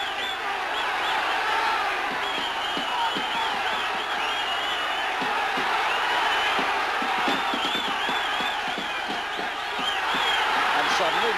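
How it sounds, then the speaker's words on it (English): A boxing crowd cheers and roars all around the ringside as fans rise for their fighter, a dense, continuous wall of voices and whoops with a commentator talking over it. "Charlie's fans begin to stand up all around the ringside and cheer for their man"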